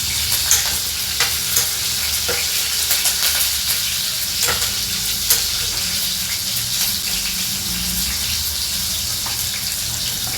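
Green chillies sautéing in oil in a pan, a steady close hiss and sizzle with occasional light stirring scrapes, continuous throughout without talk.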